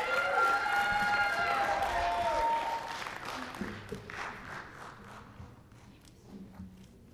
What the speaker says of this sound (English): So give them both a round of applause.